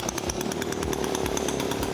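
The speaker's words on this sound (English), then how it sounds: "run a rotisserie with an antique chainsaw engine" An antique chainsaw engine drives a rotisserie, its two-stroke motor running close and loud with a steady, rapid buzzing rhythm and regular pulsing beats, with no talk.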